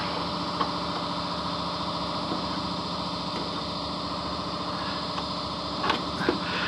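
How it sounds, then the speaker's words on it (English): An air compressor runs steadily in a garage, a continuous droning hum with a few faint clicks and knocks on top, and no talking. "there goes the compressor"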